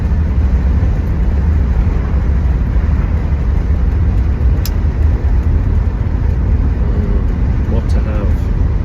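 Triumph Stag engine drones steadily from inside the moving car, a loud continuous low rumble with road noise lasting throughout, no speech heard.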